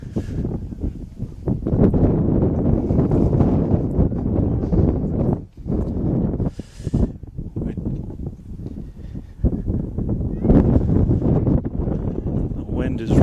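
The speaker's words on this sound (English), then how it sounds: "The wind has really become a factor here in the second half" Strong, steady wind blows across a high school boys' soccer field and buffets the microphone, making a loud, continuous low rumble with gusty surges that lasts throughout.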